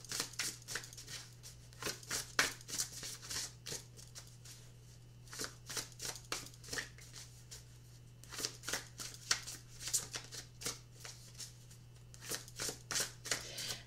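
Everyday Witch Tarot cards are shuffled by hand in a long run of rapid, crisp riffling bursts, close and fairly quiet over a steady low hum, with no talking.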